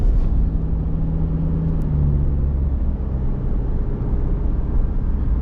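A car climbs a small hill just outside Caloundra, its engine a steady, loud low rumble and whir with road noise, holding an even drone throughout with no talking.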